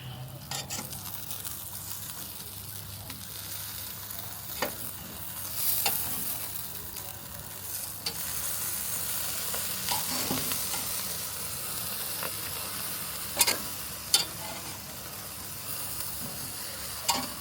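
Sausages fry in a pan at home with a continuous soft sizzle and hiss, broken by occasional sharp pops and spits and some stirring or scraping, with no talking.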